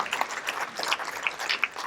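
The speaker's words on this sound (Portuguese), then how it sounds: "Dê uma salva de palmas para Jesus" Church congregation clapping for Jesus at an evangelical service, a short burst of scattered, fairly close claps of uneven rhythm.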